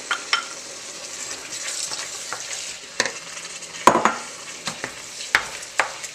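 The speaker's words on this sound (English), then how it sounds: "Seems like a good time to add our peppers. I'm going to stir those in." Peppers are stirred into a hot frying pan while cooking a pantry-staples dinner, with steady sizzling and frying beneath repeated scrapes and clicks of a utensil against the pan, close and fairly loud.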